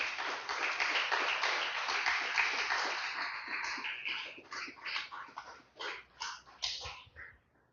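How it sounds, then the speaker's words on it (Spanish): A church congregation gives a strong round of applause, dense clapping at first that thins into scattered, uneven claps before fading out. "Den un fuerte aplauso una vez más al Señor"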